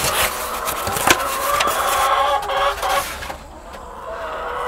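Young laying hens on a small farm cluck and squawk in a busy, continuous chorus nearby, with a few sharper calls and a slightly quieter ending.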